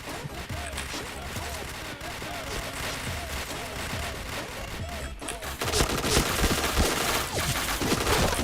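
Rapid bursts of gunfire crackle through a shooter video game, overlapping shots and volleys running nearly continuously, growing denser and louder toward the end.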